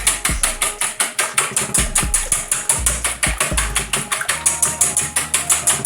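A hand-cranked egg beater whirs and clicks in a fast, steady rhythm as eggs are lightly beaten in a bowl, loud and close with regular ratcheting pulses and no voices.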